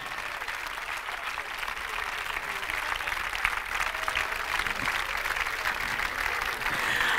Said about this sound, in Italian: facciamo un applauso alla squadra